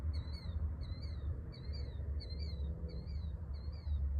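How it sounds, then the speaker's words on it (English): A noisy bird repeats a high, squeaky chirp about twice a second, steady and fairly clear over a low rumbling background hum. "It's a noisy bird."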